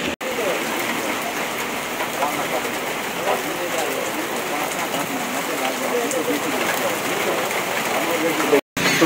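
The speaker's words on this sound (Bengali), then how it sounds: "অনেক কষ্টের পরে আজকে শান্তির একটা বৃষ্টি উপভোগ করছি" Steady rain pours down in Chuadanga, Bangladesh, a dense continuous patter on surfaces that stays loud and even throughout, with a brief dropout near the end.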